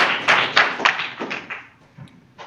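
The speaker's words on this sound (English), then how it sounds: "if you can give them a round of applause" Audience applause at a tech session for a robotics team presenting machine vision with the Raspberry Pi, a brief scattered round of claps that starts strong and thins out quickly to a few last taps.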